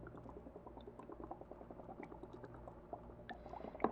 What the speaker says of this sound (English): I'm going to fill up the test tubes underwater